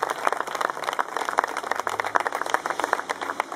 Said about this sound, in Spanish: fuerte el aplauso para Jorge Alefi